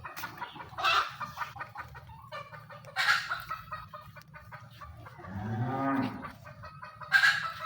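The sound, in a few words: cow mooing on a cattle farm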